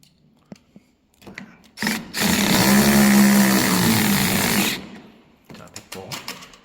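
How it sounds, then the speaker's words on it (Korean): A power driver sets screws while an Aqara K100 smart door lock is installed on a door, with one steady, loud whirring run of about three seconds framed by lighter handling clicks and taps. "자 여기다가 다시 또 피스를 박아주는 거죠"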